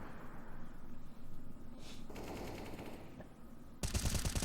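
Rapid automatic gunfire and sharp shots ring out in a Counter-Strike style match during a No Limit Gaming versus EPIC-DUDES semifinal, a steady crackle of fire ending in a loud close burst.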